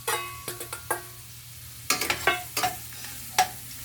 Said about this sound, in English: I'm dropping in the pan the onions, the cabbage, and the celery.